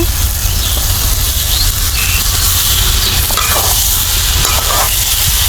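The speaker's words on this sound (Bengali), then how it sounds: "মাছগুলো দিয়ে আমি আবার একটু কষাবো" Baim fish (river eel) sautéing in plenty of oil, a steady loud sizzle with scraping stirs running throughout, no voices.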